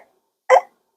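A single short hiccup imitated by a voice, one sharp close gulp in near silence.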